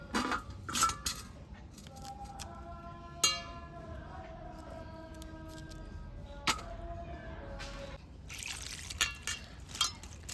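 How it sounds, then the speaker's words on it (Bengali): Water runs and trickles over cut cauliflower florets in a kitchen, a steady liquid wash with a few sharp clinks and splashes, no talking. "একবার জল দিয়ে খুব ভালোভাবে ফুলকপিটাকে ধুয়ে নেব"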